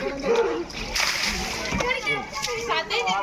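Water is thrown over a person named Sukanya as a prank, giving several loud close splashes and sloshes while people shout and talk over them.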